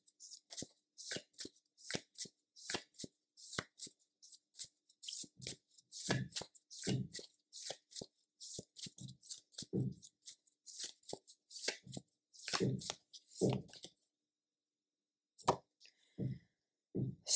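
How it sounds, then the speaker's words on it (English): Tarot cards being shuffled by hand, a long run of quick riffling flicks and soft slaps in uneven bursts, close and fairly quiet, ending after a short silence with a few last taps. "I'm going to begin off by pulling out a few cards from Spirit."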